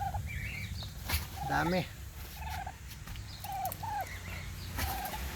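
Turkey hen clucks and purrs near her newly hatched chicks, giving short, clear calls and a brief gobbling burst over faint chick peeps. Background noise is low and continuous.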